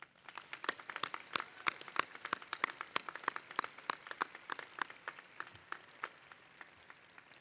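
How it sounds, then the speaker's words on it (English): Audience applause at a university commencement ceremony, a dense spread of many hands clapping that carries steadily and fairly loud for several seconds with no speech over it. "Please join me in applauding our Golden Petrels."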